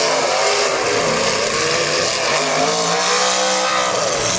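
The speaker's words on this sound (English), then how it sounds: "Both them guys got some good running engines." Several demolition derby car engines roar loudly and continuously, revving and growling together with a dense mechanical rumble and no voices over them.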